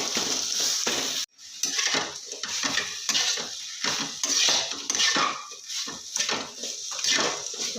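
Metal utensils scrape and clatter against a pot while a chicken snack cooks, with a faint sizzle beneath; the strokes come in quick, irregular bursts, close and fairly loud.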